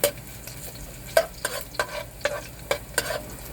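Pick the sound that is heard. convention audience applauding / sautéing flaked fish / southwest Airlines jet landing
sautéing flaked fish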